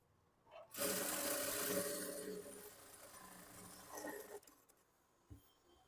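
A sewing machine stitches the front part of a blouse, a quarter-inch seam margin, running in one fast whirring burst before slowing and stopping, followed by a few small handling clicks.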